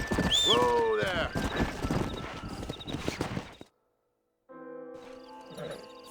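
Horse hooves clip-clop in Red Dead Redemption as a stallion moves along, with a whinny near the start. Game character voices talk over the hoofbeats, then the sound drops out briefly before quiet music returns.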